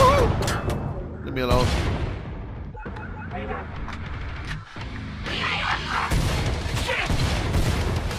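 Heavy bursts of gunfire and booming blasts in the video game Killing Floor 2 on a Burning Paris map, loud and continuous with brief gaps, while a voice speaks over the chaos.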